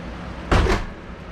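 A car door on a 1966 Ford Mustang under restoration swings open in a garage, a single short burst of broadband mechanical noise lasting about a quarter second, fairly close, with no talking.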